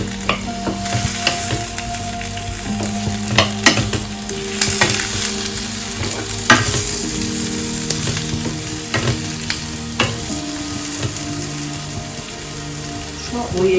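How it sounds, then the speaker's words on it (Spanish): Steady sizzling of peppers and vegetables frying gently in a pan, with crackles and occasional stirring scrapes, close and continuous throughout. "Sofreímos un poquito, lo pochamos sin que se"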